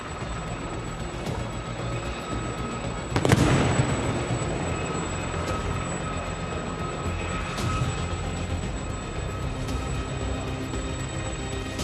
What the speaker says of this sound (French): L'hélicoptère Caïman que vous entendez également approcher va déposer son groupe de commandos